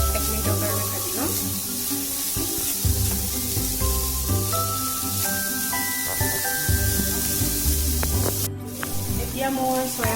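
Vegetables for veg momo stuffing, carrots among them, fry in a pan with a steady close sizzle and hiss, broken by stirring scrapes and one sharp clatter near the end, while a voice speaks briefly.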